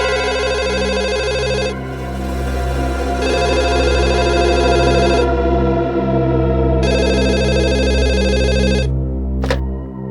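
A telephone rings in repeated electronic bursts, its loud tonal pattern pausing briefly and then starting again over a constant low hum.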